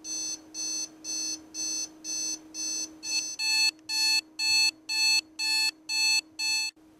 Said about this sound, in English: this piece is the buzzer for the alarm clock, and since the alarm is going off right now, you can actually hear it